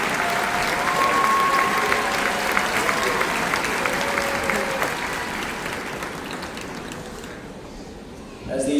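Sustained, dense applause from a graduation audience fills a large hall, steady and loud before tapering off near the end, with faint voices underneath.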